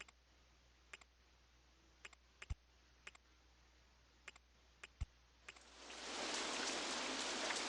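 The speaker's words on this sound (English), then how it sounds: "Oh great, more rain." Rain in the video game OpenRCT2 fades in as a soft hissing wash after several seconds of quiet, preceded by scattered sharp clicks from a mouse or keyboard.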